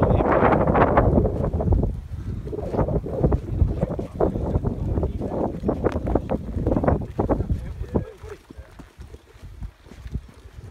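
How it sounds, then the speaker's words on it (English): Gusty wind buffets the microphone at Derwent Dam, roaring in uneven bursts and easing toward the end, with people talking faintly underneath. "that wind's a bit noisy"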